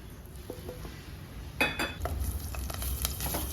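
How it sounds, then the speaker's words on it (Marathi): Ground cumin and garlic paste hits hot oil with a soft hiss, then a brighter sizzle and scraping stir with a few light clinks of a spoon on the pan, close and fairly quiet. "चमचाभर तेल घालते त्यानंतर ही जी आपण जिरं आणि लसूण वाटलेला आहे तो"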